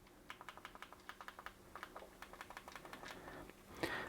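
Clicky tactical back buttons on a customized Ocha Pro game controller are pressed in a quick, steady run of sharp, light clicks, close up and fairly quiet.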